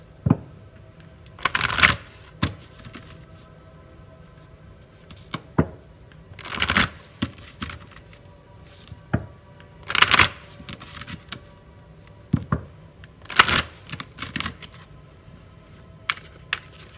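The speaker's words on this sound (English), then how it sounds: "We're going to take a Romance Angels card for you." Romance Angels oracle cards are shuffled in a quiet room, with about five crisp riffling bursts plus scattered soft taps and card handling between them, close and clear without talk.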